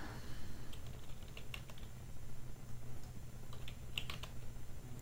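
Quiet typing on a computer keyboard, a loose run of light clicks and taps with short pauses between bursts, close and soft against faint room hiss.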